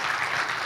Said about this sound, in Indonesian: Boleh minta tepuk tangan nih Bapak sekalian?